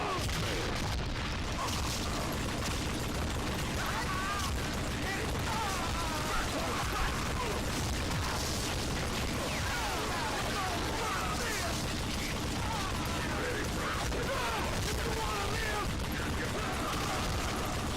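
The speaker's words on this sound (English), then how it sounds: "So I got on another minigun and went on another shooting spree." Minigun fire and explosions fill the Call of Juarez: Gunslinger video game, a dense, continuous loud barrage of booms and rattling shots that runs without a break throughout.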